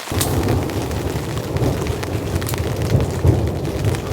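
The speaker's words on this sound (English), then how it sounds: "You can probably hear that heavy rain." Heavy rain pounds a winter hot tent at a campsite in a dense, continuous hiss with a low drumming undertone, no voices.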